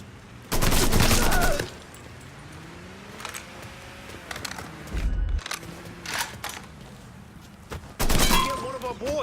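Gunfire in the crime game Mafia 3: a loud burst of shots opens, and another erupts near the end, with quieter scattered shots and spoken game dialogue in between.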